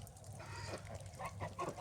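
Domestic geese honk and cackle in a noisy flock in a muddy farmyard after heavy rain, several birds calling over one another at close range, with a low steady rumble underneath.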